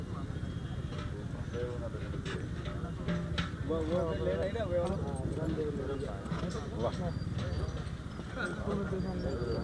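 A horse clip-clops along a road at the Pushkar fair, its hoofbeats a steady rhythm beneath continuous crowd chatter and people talking nearby.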